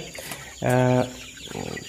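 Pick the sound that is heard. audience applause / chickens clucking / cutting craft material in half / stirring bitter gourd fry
chickens clucking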